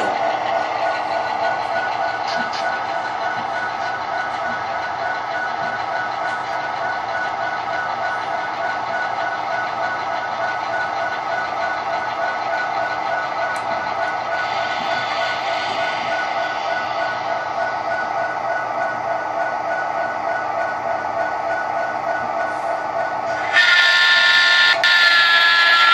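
A Kato C44-9W model diesel locomotive with an ESU sound decoder runs with a steady droning engine note throughout, then its horn blasts sharply near the end.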